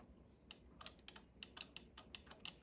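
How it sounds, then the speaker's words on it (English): A close, quiet run of about a dozen sharp little clicks in a quick, uneven rhythm as a cooling fan relay on a hybrid Honda is seated. "you can hear it click when I put it in"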